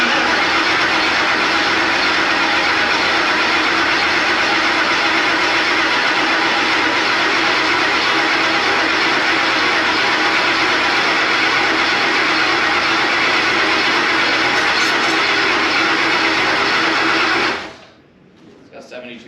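An engine cranks and runs with a loud, dense, continuous mechanical roar that holds steady for about seventeen seconds, then cuts off abruptly into near quiet.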